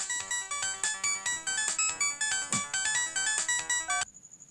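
A mobile phone ringtone plays in a Hindi-dubbed South Indian action film: a loud, bright electronic melody loops in quick repeated phrases for about four seconds, then cuts off abruptly. No one speaks.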